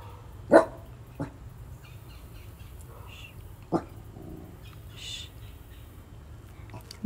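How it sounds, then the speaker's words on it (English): A dog barks a few times at irregular intervals, a couple of loud sharp barks and softer ones, over quiet background noise. "is barking at some dogs."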